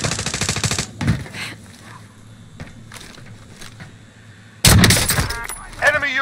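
Bursts of rapid gunfire in Call of Duty Warzone, a loud rattling volley at the start and another near the end, with sparser cracks between and voices speaking during the fight.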